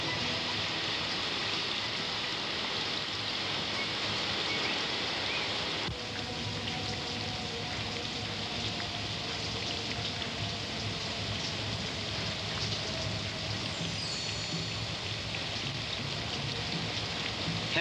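Steady rain falling and pattering on surfaces, a dense continuous hiss that stays constant throughout.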